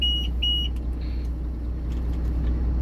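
Two short, high-pitched beeps from the warning alarm inside the cab of a Volvo FMX 400 dump truck, sounding over a steady low engine rumble, followed by faint clicks.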